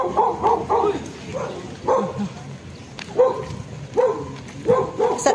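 A dog barks repeatedly in short bursts, several loud barks spaced across the clip over a noisy outdoor background in Santa Rosa, Laguna, Philippines.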